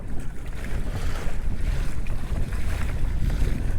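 Strong wind roars across the microphone while a Hobie Outback kayak sails through choppy water, a loud, constant rumble with the wash of waves and no voices.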